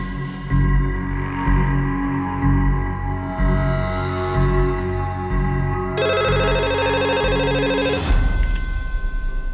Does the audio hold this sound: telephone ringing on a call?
yes